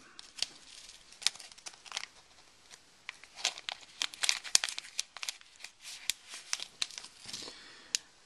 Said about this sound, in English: Simply tear along the foil to remove the test strip.